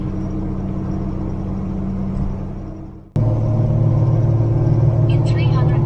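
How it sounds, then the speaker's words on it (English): A 1949 Rover P3 engine gives a steady, low, droning rumble that breaks off sharply partway through, then returns louder and fuller for the remaining seconds. "try a bit of engine music now"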